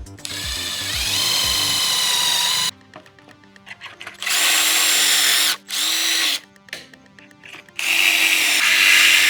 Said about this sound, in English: Now I'm going to be adding 5 of these pocket holes onto this piece of plywood.